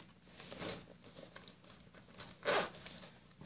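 Zipper on a Nintendo Switch messenger bag pulled in several quick rasping strokes, close and fairly quiet, with one longer pull near the end and soft handling rustle in between.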